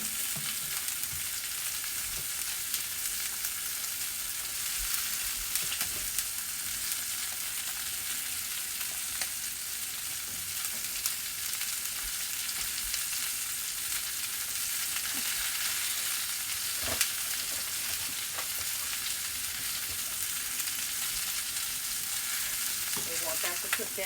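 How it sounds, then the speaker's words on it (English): Chicken sears in a pan, giving a steady, even sizzle and crackle that carries on continuously throughout, close and moderately quiet, with occasional faint clicks of utensils. "We want that to cook down real nice. See the brown? Again, it's a good sear. We want it to sear."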